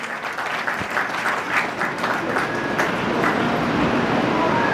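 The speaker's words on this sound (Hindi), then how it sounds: "एक बार जोरदार तालियों से।" An audience at a Shrimad Bhagavat Katha religious gathering claps loudly and continuously, a dense steady applause filling the whole stretch, close and full with a few stray voices underneath.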